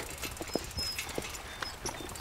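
Horse hooves clip-clop in an uneven run of sharp knocks while riders follow on horseback, fairly close and clear over a faint outdoor background, with no talk.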